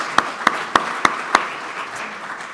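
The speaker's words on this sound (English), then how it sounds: "You can clap. Will deserves some applause." Sparse applause at a meeting, five distinct evenly spaced claps near the start, then a fainter spread of scattered clapping that fades out.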